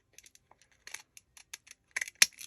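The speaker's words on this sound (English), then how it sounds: "I'm going to come and cut across with my lacy scissors" Decorative lacy craft scissors snip through paper in a run of short, crisp clicks and crunches, close up and unevenly spaced, growing busier and louder toward the end.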